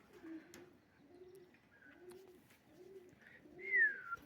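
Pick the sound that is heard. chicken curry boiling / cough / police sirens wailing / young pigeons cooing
young pigeons cooing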